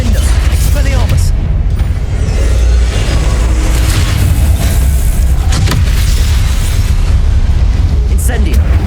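Loud booming blasts of the Confringo spell in Hogwarts Legacy roll over a dense, rumbling game soundscape, heavy low-end bursts layered with clatter and effects, nearly constant throughout.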